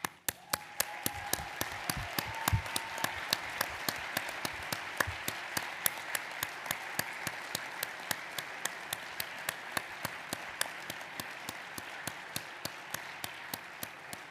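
A standing commencement ceremony audience applauds graduates' families with sustained, steady clapping that fills the hall evenly from start to finish.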